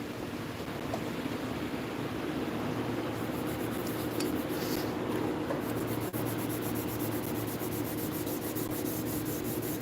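Light hand sanding with 400 grit sandpaper on a carved piece, a soft, continuous rubbing hiss close by, with faint repeated strokes in the second half.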